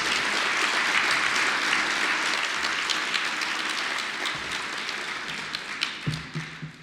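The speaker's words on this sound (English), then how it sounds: "please give him another round of applause for his well-deserved scholarship" A gala audience at a Pasadena awards ceremony applauds a scholarship recipient, a dense, steady roar of many hands clapping that thins toward the end, with scattered individual claps and a few low thumps standing out.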